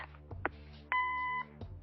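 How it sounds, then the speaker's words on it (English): Voicemail beep in the video game Kathy Rain, a single clean electronic tone held for about half a second, preceded by brief soft clicks and a short burst. "Leave a message after the beep."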